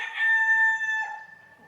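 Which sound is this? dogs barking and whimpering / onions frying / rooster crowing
rooster crowing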